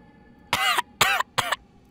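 A dragon coughs in an audiobook sound effect: three harsh, throaty bursts in quick succession, loud and close, each roughly a quarter second long, separated by short silent gaps, with no speech.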